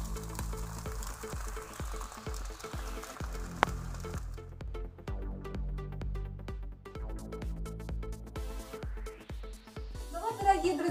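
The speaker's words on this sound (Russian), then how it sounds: "и так жарим всю нашу картофельную массу" Steady oil sizzle of grated-potato pancakes (draniki) frying in a pan, continuous and close, with occasional clinks and scrapes of a utensil.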